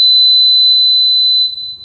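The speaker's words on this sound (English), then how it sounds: "There's your audible alarm." A loud, steady high-pitched fuel leak alarm, triggered by a float in an oil containment tray, sounds continuously, then cuts off, leaving near silence.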